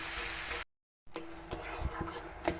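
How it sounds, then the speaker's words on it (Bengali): Mashed bottle gourd is stirred in a pan over a low flame, with soft scraping and occasional spoon taps against the metal after a brief gap of silence, close and fairly quiet. "এভাবে নাড়িয়ে নাড়িয়ে এটাকে সুন্দর করে রেডি করব"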